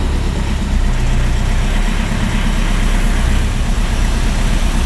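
A Ford Transit Mk1 van engine runs steadily at tick-over in sixth gear, a loud, continuous low rumble with a constant droning hum and no talk over it.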